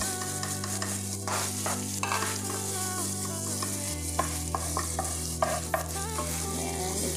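Garlic and ginger sauté in a pan of hot oil, a steady crackling sizzle with repeated scraping stirs, all set against a constant low hum.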